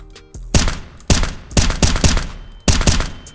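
Gunfire from a gun in a Roblox hood game, a loud series of sharp close shots in quick bursts, each leaving a short decaying tail, with no talk.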